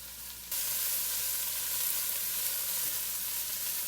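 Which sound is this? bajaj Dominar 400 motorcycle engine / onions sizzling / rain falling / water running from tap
onions sizzling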